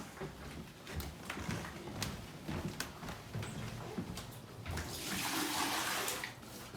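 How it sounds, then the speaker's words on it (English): Water tipped out of a plastic wash basin and the basin rinsed during bedside perineal care, a low steady splashing and running water with small knocks, swelling into a heavier pour toward the end. "Dumping it, rinsing it."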